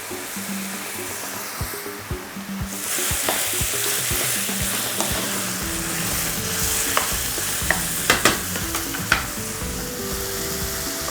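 Chickpeas sizzling and frying in a pan for chili nachos, a steady bright hiss broken by scraping, clattering stirs that grow more frequent, close and fairly loud, with no talk.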